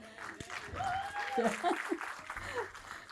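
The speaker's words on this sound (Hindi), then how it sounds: "तालियों से पता चलता है।" An audience applauds at a talent-show stage event, the clapping moderately loud and steady for about three seconds, with a voice and some light laughter mixed in.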